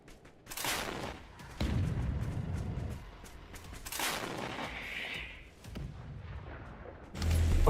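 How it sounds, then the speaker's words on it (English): Russian artillery fires on an APC in the War Thunder combat game, with several loud, booming broadband blasts arriving in irregular bursts, some close together, over a rumbling battlefield background. "Meanwhile, Russian artillery opens fire trying to hit an APC."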